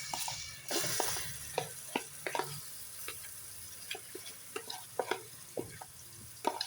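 Chicken pieces frying in hot oil inside a pressure cooker, a steady close sizzle with clinks and stirring knocks scattered throughout.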